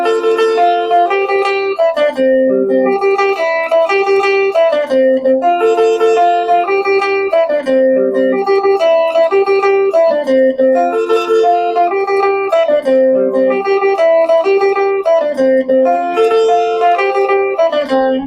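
Soukous guitar solo on a clean electric guitar that combines two chord shapes into bright, rapid cascading picked notes, playing steadily and loudly throughout with no talking.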